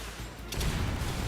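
A grenade explodes in Metal Gear Solid Delta, a muffled, low booming blast that rises suddenly after a brief quiet and rumbles on, moderately distant and faint.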